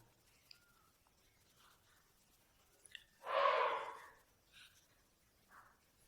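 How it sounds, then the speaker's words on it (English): A she-elephant kept at the Kuntugiri Kshetra temple gives a single breathy, snorting vocal blast partway through, alone against a quiet background. "This is the sound of an elephant, a she-elephant."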